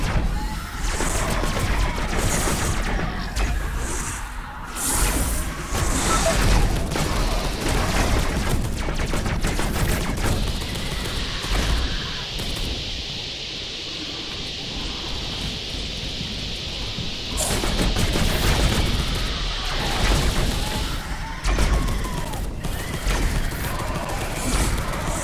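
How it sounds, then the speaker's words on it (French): A modified plasma gun fires in the Space Hulk Deathwing game, a dense, sustained roar of blasts and crackling impacts that continues almost unbroken, with a steady hiss swelling midway. "Un lance-plasma modifié."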